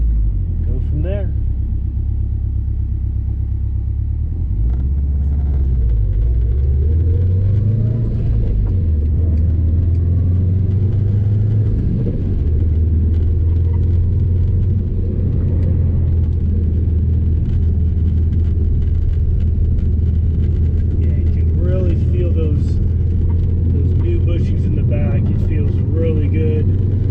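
A 2005 Subaru STI drives along a road, engine rumbling steadily with rising and falling pitch as gears are shifted, loud and close throughout, with a person talking over it at times.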